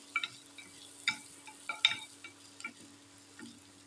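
Green peas sautéing in a pan for pea rice, heard as quiet, intermittent scrapes and clicks of a stirring spoon against the pan over a faint sizzle, with no talking.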